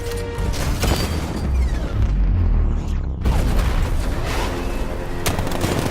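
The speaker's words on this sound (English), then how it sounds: "60mm cannon operational." Repeated loud booming 60mm tank cannon shots and rumbling explosions in the video game Batman: Arkham Knight, with heavy low-end thuds and a brief lull partway through.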